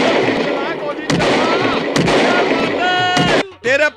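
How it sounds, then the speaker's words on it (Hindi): A loud burst of gunfire sound effects crackles over a Hindi radio prank call, several sharp shots piling up for over three seconds while someone talks, then breaking into shorter cut-off bursts at the end. "गोली चला।"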